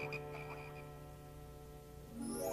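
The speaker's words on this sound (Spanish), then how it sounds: "Tú, haz que los sapos se vayan." Animated frogs croak in a low, droning chorus during a cartoon retelling of the plague of frogs in Egypt, steady and fairly quiet, with a rising swoosh near the end and no speech.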